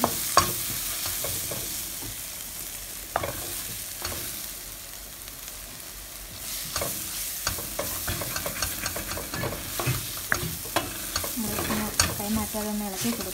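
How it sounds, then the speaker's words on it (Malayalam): Spices and tomato for a prawn curry sautéing in a pan, a steady close sizzle broken by repeated scraping stirs of a utensil against the pan, with no voices. "ചേർത്ത് വഴറ്റി കൊടുക്കാം."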